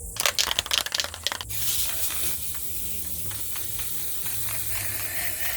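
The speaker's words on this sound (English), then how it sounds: "I'm going to spray paint it at night." A few rapid clicks as a spray can of paint is shaken, then a long, steady hiss of paint spraying onto textured leaf art, close and continuous.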